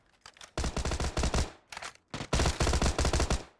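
Rapid bursts of automatic gunfire crackle in two long volleys with short sparse shots between, loud and close, like weapons firing in the game PUBG: Battlegrounds.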